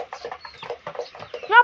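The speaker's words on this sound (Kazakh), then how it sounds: "Мынау әтеш балапандар." Young rooster chicks chirping and clucking in a quick, uneven series of short calls, close by, ending in a louder rising cheep.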